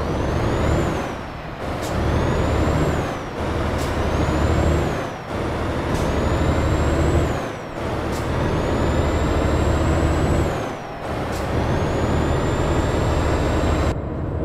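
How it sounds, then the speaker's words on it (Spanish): Air brakes on an Irizar i6 coach on the road: sharp pneumatic hisses and releases come again and again, roughly every two seconds, loud and close over a steady engine and road rumble. "Estos autobuses, amigos, tienen unos frenos impresionantes. En casos de emergencia, pues se accionan bastante bien"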